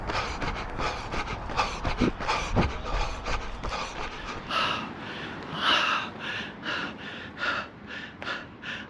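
Heavy, ragged panting from a runner just finished with half-mile reps: rapid, loud gasping breaths near the mic, settling into a steadier rhythm of hard exhales and inhales with no talking.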